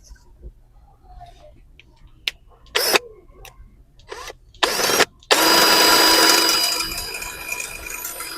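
Short bursts of a power drill whir on and off, then a longer continuous grinding run boring into a bicycle frame at the seatpost clamp area, close and loud.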